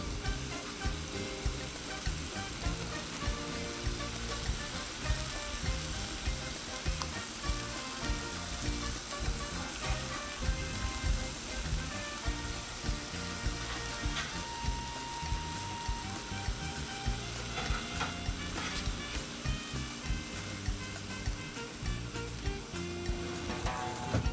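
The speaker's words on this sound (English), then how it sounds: "Paint scraper's going to come in and just start a chopping." Chili dogs sizzle loudly on a 22-inch Blackstone griddle while a paint scraper chops through them, a constant frying hiss laced with faint metallic scraping taps.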